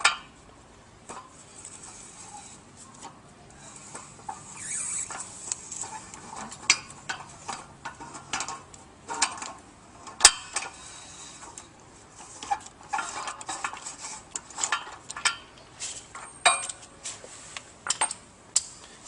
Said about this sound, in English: we'll use a 41mm socket to loosen the shaft seal